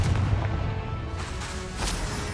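A blasting-spell explosion from the Hogwarts Legacy game, with a low booming burst at the start and a second swell of blast noise later, set against continuous combat sound.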